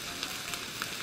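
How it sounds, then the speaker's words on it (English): Food sizzles in a pan while a Russian MRE (meal ready to eat) is cooked, a steady hissing fry heard up close and alone for a brief moment. "yeah, that's sizzling"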